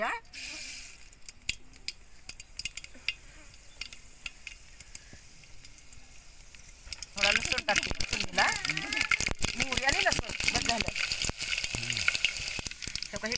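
Mustard seeds hit hot oil in a home kitchen pan, starting with faint crackles and then bursting into a loud, dense sizzle and spattering pops that continue to the end, with a voice talking throughout.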